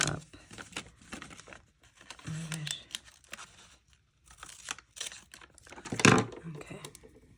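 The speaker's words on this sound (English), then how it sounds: "I'm gonna have to cut this one up." Scissors snip and crinkle through paper stickers and sheets while sorting cash envelopes, with close rustles, crisp cuts and a louder tear-like crunch near the end.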